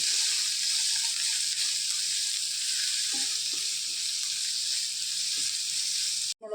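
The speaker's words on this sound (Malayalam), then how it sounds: "പച്ചമുളക് വെളുത്തുള്ളി സവാള വേപ്പല ഇതെല്ലാം കൂടി ഒന്നിച്ചെണ്ണ ഇടുകയും ഇതെല്ലാം ഇട്ട് നന്നായിട്ട് ഇളക്കി കൊടുക്കാം" Green chili, garlic, onion and curry leaves sizzle steadily in hot oil, a continuous bright frying hiss with a few soft stirring knocks partway through, close and loud, cutting off abruptly near the end.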